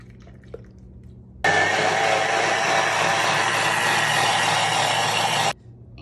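Non-dairy milk pours into a Thermomix TM6 bowl, a steady close liquid splashing and gurgling stream lasting about four seconds that starts and stops abruptly against a quiet kitchen background.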